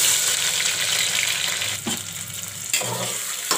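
Chopped onions hit hot oil with whole green cardamom, cinnamon and cloves for a mutton curry, a strong continuous sizzle with brief stirring scrapes, close and loud.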